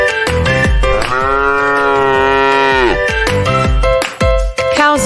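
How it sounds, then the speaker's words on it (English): A cow lets out a long, loud moo lasting about two seconds, heard up close over cheerful children's music with rhythmic percussion. "They say moo."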